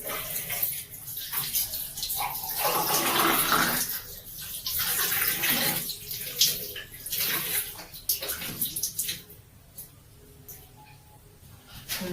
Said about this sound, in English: I'm going to wash my face with some water.